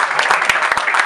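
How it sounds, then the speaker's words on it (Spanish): Crowd applause after a live acoustic concert at La Pacha, a dense, bright clatter of many hands clapping close by for about a second with a few sharper individual claps. "que se renueve el aplauso"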